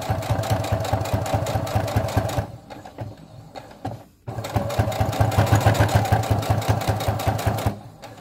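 Sewing machine stitching a flat zipper pouch, rapid close mechanical clatter that pauses briefly mid-way, then resumes at a steady fast pace.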